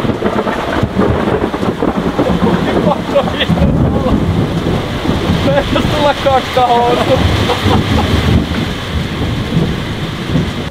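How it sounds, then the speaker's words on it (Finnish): Thunder during a thunderstorm with heavy rain and wind buffeting the microphone, a loud rumbling roar that runs throughout while people talk and a high tone sounds briefly. "Siis oltiin varmaan myrskyn keskellä."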